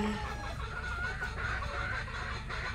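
Chickens clucking in a breeding pen, a dense continuous chorus of close overlapping clucks and murmurs from several birds, no speech.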